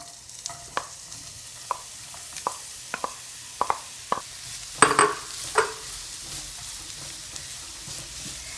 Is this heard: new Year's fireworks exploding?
no